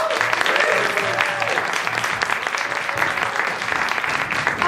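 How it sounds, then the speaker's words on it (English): A comedy club audience at a stand-up show applauds the host with steady, fairly loud clapping throughout, mixed with some crowd murmur. "I would like you to give your biggest round of applause for our host tonight"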